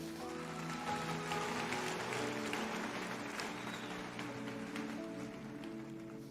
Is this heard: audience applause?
yes